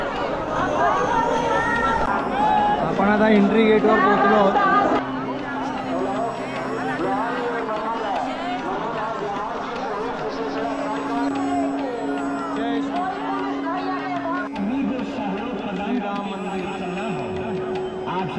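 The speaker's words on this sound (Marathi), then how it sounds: "दोन्हीकडे बघू शकता गर्दी." Dense crowd of pilgrims at a temple entry gate in Ayodhya, a steady babble of many voices close around, with a nearby speaker talking over the hubbub throughout.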